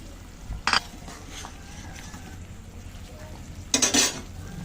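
Taro and tilapia fish curry being stirred in a pan, two short bursts of scraping and clattering against a soft background sizzle.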